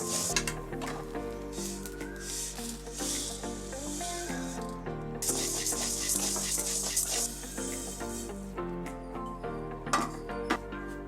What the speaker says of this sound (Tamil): மல்லி லேசாக அப்படி பொரிஞ்சு வரும்போது நம்ம எடுத்துடலாம்